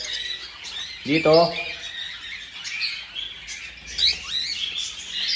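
Pet budgerigars (pied and saddleback varieties) squawk and chirp in a busy aviary chorus, with one loud harsh call standing out and a brief word spoken nearby.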